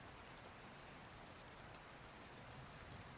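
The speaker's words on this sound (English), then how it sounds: "I hope he's not caught in all that rain." Soft, steady rain falls in an even, continuous hiss, faint and unbroken throughout, with no voices or other sounds.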